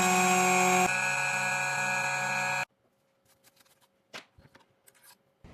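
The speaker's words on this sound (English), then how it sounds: "Install the key and cut a groove." 2M2 Tank 2 Pro key cutting machine milling a groove into a padlock key blank, a loud, steady whine with strong tonal harmonics that drops in pitch partway through, then stops abruptly, leaving faint clicks and handling noises.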